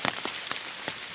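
Light rain patters outdoors on a surface, a soft steady hiss broken by a few faint droplet ticks.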